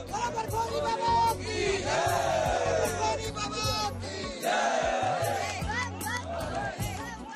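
A large crowd of Amarnath pilgrims gathered at a registration centre, heard as loud, dense babble with overlapping shouts and chanting-like voices, close and continuous. A reporter speaks over it.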